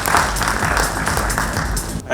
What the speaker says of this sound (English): big round of applause to him, please, guys. Let's put our hands together.